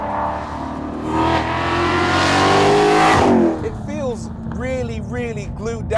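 A Mustang CS850GT with 859 hp and a manual gearbox revs hard under full throttle, its loud engine note climbing for a few seconds, then dropping off as a voice talks over the fading rumble.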